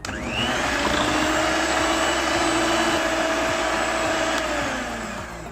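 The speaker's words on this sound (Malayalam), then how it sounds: "ഇത് നമുക്ക് ഒരിക്കൽ കൂടി നന്നായിട്ടൊന്ന് ബീറ്റ് ചെയ്തെടുക്കാം." An electric mixer beats carrot and date cake batter with flavorless oil added, giving a steady, loud motor whine that holds for several seconds before easing off at the end.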